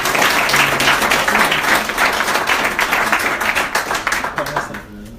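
An audience applauds to welcome a speaker at an evening gathering, a dense, continuous wash of clapping from many hands with voices mixed in, easing slightly at the end.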